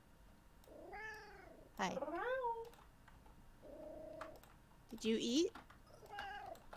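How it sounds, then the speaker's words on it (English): A house cat meows repeatedly in short, rising and falling calls, close and fairly loud, between brief spoken words from a person addressing it. "I love how noisy your cat is."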